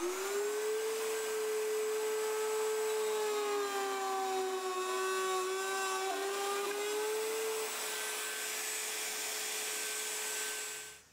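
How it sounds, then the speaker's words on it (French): A router fitted with a straight bit cuts a notch into wood, giving a loud, sustained high whine with a wavering pitch that holds steady for about ten seconds before cutting off abruptly. "je vais découper à l'aide d'une toupie et d'un fer droit"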